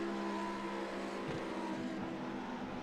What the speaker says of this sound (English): Sounds like they're putting quite a lot of revs through these R8s at the moment.